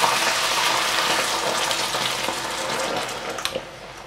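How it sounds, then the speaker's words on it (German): Strained tomatoes poured into a pan of glassy, softened onions bring a steady, loud sizzling and watery frying hiss that runs without a break, with a few small sharp pops near the end. "gebe ich die passierten Tomaten dazu."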